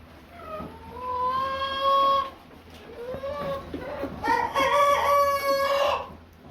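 Chickens in a barn on a small-scale poultry farm, with a rooster giving two long crows close by, clucking and scattered bird sounds in between.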